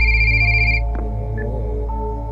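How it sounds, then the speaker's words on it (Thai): A telephone ringing indoors at night, a steady electronic ring heard close and clear, fading slightly toward the end with a low hum underneath. "โทรศัพท์ดังอ่ะ"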